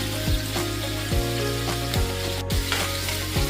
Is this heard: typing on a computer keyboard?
no